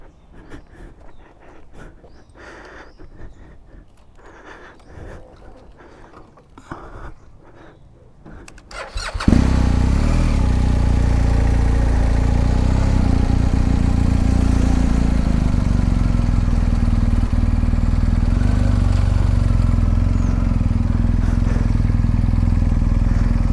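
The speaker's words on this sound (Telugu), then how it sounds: "ర్యాంప్తో ఎక్కిస్తున్నప్పుడు బైక్ పైన మనం కూర్చొని" A BMW GSA motorcycle engine fires up after some quiet shuffling and handling noises, then runs loud and steady at a rumbling idle for the rest of the stretch.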